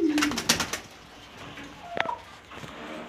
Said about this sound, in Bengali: এটা নর কবুতর সিলভার